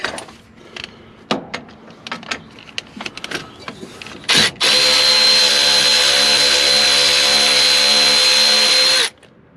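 Scattered clicks and handling noises give way to a power tool whirring loudly and steadily for several seconds close by, then stopping abruptly.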